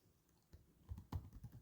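Quiet keystrokes on a computer keyboard tap out text in an uneven run of soft clicks and thumps, faint and close, with no talking.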